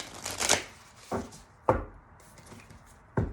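Tarot cards being shuffled by hand, a burst of riffling followed by three separate sharp card taps, close and fairly quiet, no talking.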